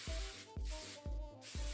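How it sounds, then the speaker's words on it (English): A fine-mist hairspray is sprayed onto warm, freshly curled hair in four quick, evenly spaced hissing bursts, close and steady, with no talking. "while the curls are still warm, I am going to spray them"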